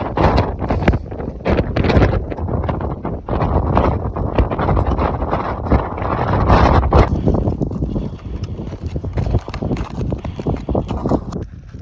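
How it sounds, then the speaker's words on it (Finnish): Strong gusts of wind buffet the microphone on a mountain while ski touring on Kvaløya, with loud, rough blasts rising and falling continuously. "Se tuuli oli myös aika tosi kova tuossa kohtaa."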